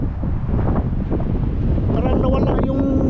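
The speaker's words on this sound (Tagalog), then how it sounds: "Ang lakas ng hangin." Strong wind during an evening sandstorm in Jeddah, Saudi Arabia, buffets the microphone with a loud, continuous rushing roar, while a voice speaks over it.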